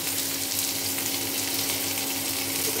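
Raw onions, green chillies and bay leaf frying in hot oil for jhal potol, a dense, loud, continuous sizzle heard up close with no speech.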